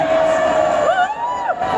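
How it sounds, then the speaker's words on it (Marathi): A large crowd at a Thane event cheers and whoops loudly and continuously for Bollywood actor Sunil Shetty, with shrill voices rising above the dense roar. "टाळ्या जोरदार।"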